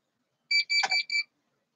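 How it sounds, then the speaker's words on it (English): A kitchen timer goes off with four quick, bright electronic beeps in a tight pattern, close and clear against silence, with a faint voice-like murmur briefly overlapping the second beep. "This timer keeps going off and I don't know why."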